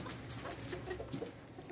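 Chickens clucking softly at a distance, a steady scatter of short calls over a busy outdoor background.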